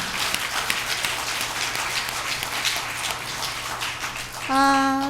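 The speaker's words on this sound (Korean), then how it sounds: "다시 한번 영광의 박수를 하나님께 올려드립니다" A church congregation applauds during a Sunday service, a sustained, even wash of many hands clapping from across a large room that fills the whole stretch before a sung or organ-like tone enters at the end.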